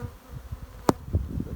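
Buckfast honey bees hum at the hive, a low buzzing close by with one sharp knock in the middle, brief and without talking.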